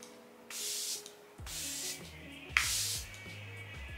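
Charlotte Tilbury makeup setting spray misting in three short hissing bursts, close and fairly loud, with soft handling noises in between.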